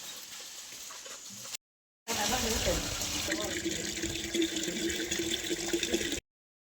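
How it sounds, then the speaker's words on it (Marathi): Water from a motor pump pours into a container as a steady, loud rushing splash. It starts after a brief quieter stretch and a short gap, then runs continuously until it cuts off. "आता मोटर चालू करायची आणि पाणी भरायचे"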